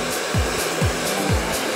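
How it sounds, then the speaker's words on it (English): A blow dryer runs steadily with a loud, continuous airy roar while styling hair into voluminous curls, its whoosh pulsing at regular intervals as the brush and nozzle move through the hair, with no talking. "You want to make sure that your blow dryer nozzle is parallel to your parting."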